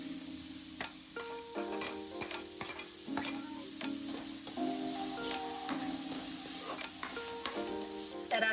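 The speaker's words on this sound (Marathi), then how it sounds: "थोडं पटकन कांदा परततो" Onion frying in a pan with ginger-garlic paste and salt for chicken curry, a quiet, steady crackling sizzle with intermittent scraping stirs, close but soft.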